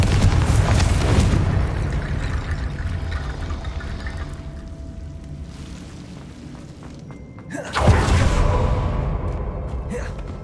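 Confringo explosive spell cast in Hogwarts Legacy, heard as a loud blast at the start that rumbles and fades, then a second sudden explosive burst near the end, with swirling game ambience between.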